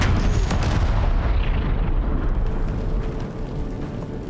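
An autocannon firing in a video game, a loud dense barrage of rapid booming shots that continues steadily and then eases slightly toward the end.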